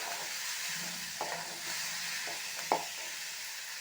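Radish pieces sizzle steadily in a hot pan for a Tamil radish-and-egg stir-fry, with a few sharp scrapes and clacks from a spoon stirring through them, close and fairly quiet.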